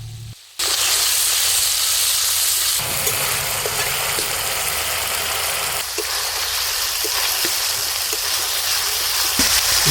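Onion paste and tomato paste hitting hot oil with whole cumin in a kadai for a Bengali fish curry, a loud, continuous broadband sizzle that starts abruptly and holds steady with faint crackles throughout.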